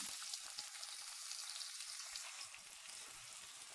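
Onions fry gently in oil over medium heat for keema, making a faint, even hiss of sizzling with light crackle, steady from start to end and without talk.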